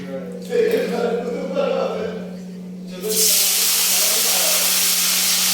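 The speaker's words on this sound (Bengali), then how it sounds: "চলো পাশে মাছটাকে এখন ধুয়ে দিই" Water runs steadily over fish being washed, a loud broad rushing hiss that starts partway through. Someone talks briefly just before the flow starts.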